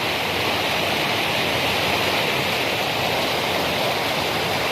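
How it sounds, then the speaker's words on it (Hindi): Water flowing in a village stream, a continuous, even rushing hiss at close range with no breaks or talk. "कितना सुंदर पानी जा रहा है।"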